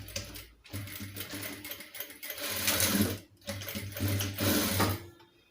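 A sewing machine stitching a fabric face mask runs in quick rattling bursts of mechanical needle clatter, stopping and restarting several times, close and fairly quiet with no talk.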